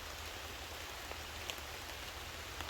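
Heavy rain pours steadily through woodland, a dense, even hiss of drops hitting leaves and ground, with a few sharper drips standing out.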